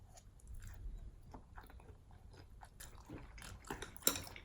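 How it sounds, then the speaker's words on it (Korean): Raw flounder sashimi dipped in chojang and wasabi chewed close to the mouth, with soft, moist, irregular chewing and smacking sounds that grow busier toward the end, plus one sharper click, in a quiet room. "회를 먹도록 하겠습니다."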